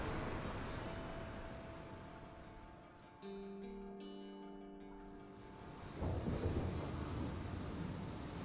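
A thunderstorm with steady heavy rain in the video game Life Is Strange, with rumbling thunder building in the background and a loud crack near the end, no talk.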